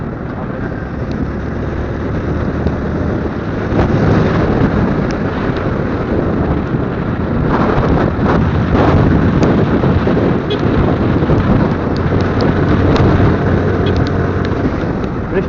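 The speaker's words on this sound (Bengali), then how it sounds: "বৃষ্টি পড়া মনে হয় শেষ হবে না" Steady roar of heavy rain with gusting wind buffeting the microphone, dense broadband noise throughout with occasional louder bursts.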